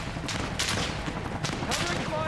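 Repeated bursts of rifle and machine-gun fire ring out in Arma Reforger, sharp volleys and crackling shots spread across a noisy battlefield, with no voices on top.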